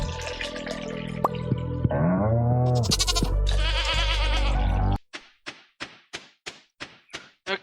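Farm goats bleat inside a barn in the video game Stardew Valley, with wavering cries layered over busy game sounds, then a steady run of sharp rhythmic taps.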